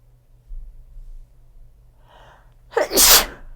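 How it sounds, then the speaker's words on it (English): A quiet intake of breath builds into one loud, explosive sneeze near the end. "It's a giant sneeze."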